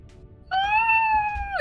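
A sperm whale lets out a single drawn-out, high tonal cry heard in the ocean, rising sharply, holding steady for about a second, then bending downward at the end, alone and clear.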